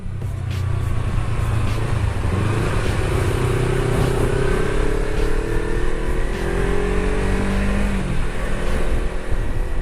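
A Kawasaki Versys-X 300 motorcycle engine at about 100,000 km, just serviced, runs loud and close with a steady drone and gentle shifts in pitch, alongside wind or road noise.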